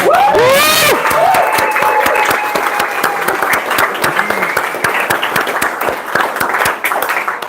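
Sustained room-filling applause and some cheering from the audience at an Irish whiskey society tasting, loud and continuous, with a short vocal burst at the beginning.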